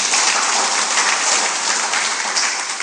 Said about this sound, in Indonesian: Tepuk tangan untuk Bapak kita.